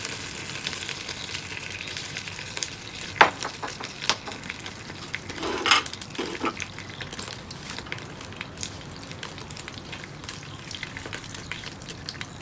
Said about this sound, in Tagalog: So, magigisa na tayo. Lagyan tayong mantika.